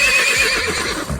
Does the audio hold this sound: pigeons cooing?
no